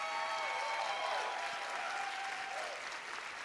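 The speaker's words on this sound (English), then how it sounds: "Everybody give them a big round of applause." Audience applause fills a hall at an arts awards ceremony, steady dense clapping that slowly fades toward the end, with no talk over it.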